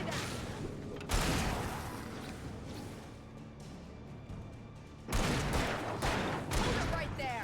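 Gunfire bursts from the video game Alan Wake, loud flurries of shots opening and closing a quieter stretch of rumbling ambience, with a voice faintly present in the mix.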